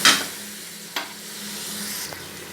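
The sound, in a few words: nihari masala sizzling and being stir-fried in a pan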